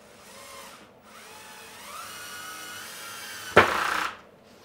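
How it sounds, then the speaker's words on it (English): A power driver sinks screws into a wooden storage cabinet built to sit under a table saw. A motor whine rises in pitch, ending in a sharp loud burst of driving near the end. "A lot of screws to put in."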